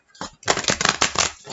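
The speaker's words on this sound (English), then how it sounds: "Okay, I'm going to do one final shuffle." Deck of tarot cards riffled in a final shuffle, a close, rapid flurry of papery flicks and slaps lasting about a second.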